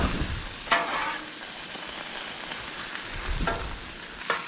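Fish and potatoes fry in bacon grease, giving a steady close sizzle with a few sharper crackles and stirring scrapes, and no voices.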